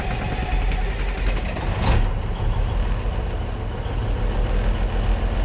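1973 Kenworth dump truck engine being fired up with the clutch pressed: loud, heavy, low diesel rumble that settles into a steady running drone, with a brief surge near the start, no talking.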